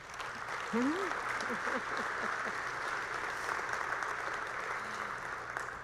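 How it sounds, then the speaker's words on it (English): Audience at a luncheon with the governor applauding, steady broad clapping sustained throughout with a voice briefly heard at the start. "A round of applause for those folks."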